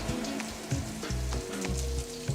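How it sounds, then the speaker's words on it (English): Chicken sizzles in an underheated wok with a moderate, even frying hiss, broken by repeated scraping stir strokes, close up and alone. "my wok, it's not really sizzling super aggressively like it was before"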